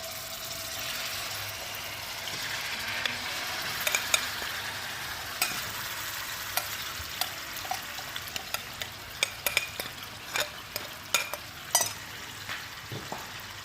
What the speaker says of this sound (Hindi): घी भी हमारा गर्म हो चुका है, तो अब हम इस चिकन को इसमें डाल देंगे।